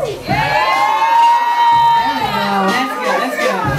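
Studio audience at a talk show cheering, whooping and shouting in a loud, sustained burst, with voices rising and falling throughout and a few individual yells standing out near the end.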